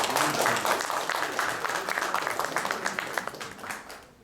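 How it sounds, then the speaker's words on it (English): Dense, steady audience applause at a Mickey Mehta and Talwalkars partnership event, many hands clapping at once and fading slightly toward the end, with faint voices beneath. "A big round of applause"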